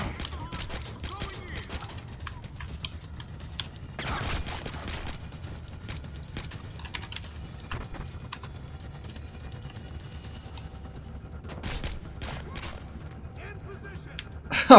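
Sporadic gunshots and short bursts from the video game Splinter Cell Blacklist, with a louder cluster around the fourth second and another near the twelfth, spread over a quiet, low-level game background.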